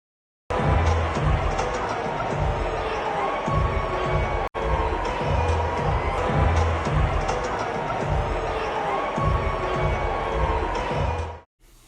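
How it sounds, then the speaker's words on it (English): A packed stadium crowd jeers as Harry and Meghan appear on the kiss cam, a dense, sustained roar of booing and crowd noise filling the arena from start to finish with little letup. "the second people saw them, the booing started"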